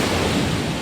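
Small sea waves wash continuously near the shore, a broad rushing surf sound roughened by wind buffeting the microphone, with no voices.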